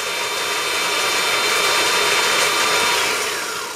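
A Cyclone 3000 W mid-drive electric bike motor spinning at full throttle, giving a loud, steady high-pitched whine with a broad hiss, held for a few seconds before easing slightly.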